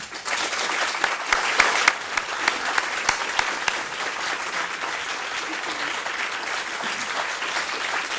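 An audience at Hillary Rodham Clinton's keynote address applauds to welcome her, with sustained clapping from a large crowd that stays strong and even, a few sharp individual claps standing out early on.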